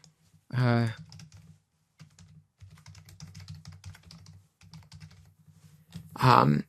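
Computer keyboard typing while notes are written, a steady run of light, quick clicks through most of the stretch, with short speech-like bursts at the start and end.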